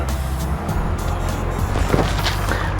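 A 2011 Nissan Qashqai with a 2.0 petrol engine running just after starting, a steady close engine hum with a brief dip near the start, holding continuous and loud with no talk.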